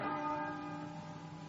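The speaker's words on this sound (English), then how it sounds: "till the bell rang for matins." A single church bell rings for matins in a gothic radio drama, one sustained, resonant toll decaying slowly and quietly.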